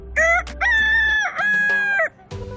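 A rooster crows loudly and close up in a long, drawn-out call with a break midway, on a farmyard kept with chickens and geese, with a short burst of other farmyard noise at the end.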